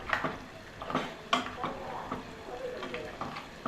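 A spoon stirs thick masala curry gravy in a pan, giving a run of close scraping and clattering strokes over a soft sizzle, with one sharper knock midway.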